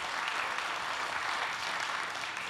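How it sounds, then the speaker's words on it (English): A church congregation at Amarillo Church claps for the Lord during a sermon, a soft and steady wash of many hands heard at a distance, even in level throughout with no voices on top. "Give the Lord a hand clap"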